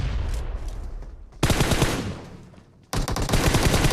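Bursts of automatic gunfire in PUBG Mobile, close and loud, with dense rapid shots in two sustained volleys separated by a quieter stretch of distant firing.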